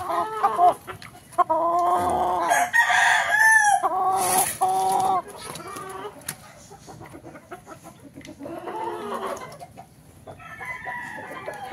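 Domestic chickens and roosters: several loud close crows rise over busy clucking and cackling, then a flock clucks more softly toward the end.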